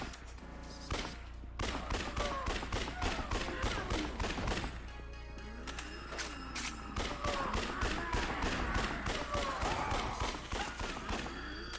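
Rapid Uzi fire in the video game Yakuza: Dead Souls, a fast, steady stream of crisp shots in long bursts with a short pause, layered over game sound effects and a low background hum.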